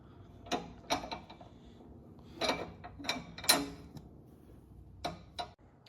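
A car jack being cranked down counterclockwise during a tire change gives faint, close, irregular metallic clicks and ratcheting ticks in small clusters over quiet background, with no talk.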